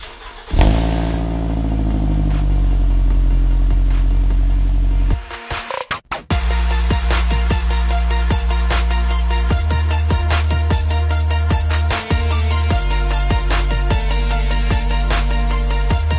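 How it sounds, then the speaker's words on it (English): A Scion tC with a TRD center exhaust cranks briefly, then fires and settles into a loud, close idle with a steady low drone and a few small blips, no voices. "we'll see what this startup sounds like with the TRD center"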